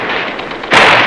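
Gunfire during the 1944 battle of Tarawa, heard as a harsh, noisy stretch of shots on an old wartime newsreel track that jumps into a louder, denser burst near the end.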